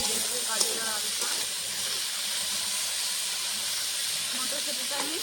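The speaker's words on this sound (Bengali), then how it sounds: "গাজর আর আলুটা আমি ভালো করে ভেজে নিয়েছি" Carrots and potatoes fry with turmeric in a pan, giving a steady, even hiss of sizzling oil throughout, with a brief voice near the start.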